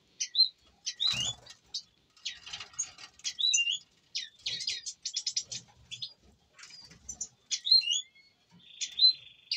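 Pet canaries chirping during a shower bath, including a crested German canary and a harlequin, give a dense run of bright, high, close chirps and tweets with soft splashing and wing-flutter sounds between calls.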